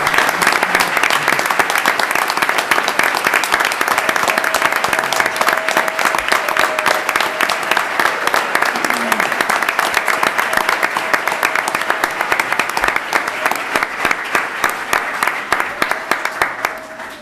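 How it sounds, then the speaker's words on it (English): Long, steady round of audience applause honoring retirees at a school board meeting, dense crowd clapping that holds at an even level for over fifteen seconds with a few faint voices underneath. "let's give them another round of applause"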